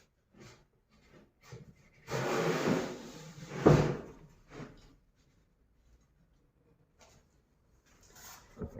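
Wooden drawers slide and scrape into a cabinet in a carpentry workshop, a sustained rubbing run ending in a solid knock, with softer taps and handling noises before and after, close by and without talk.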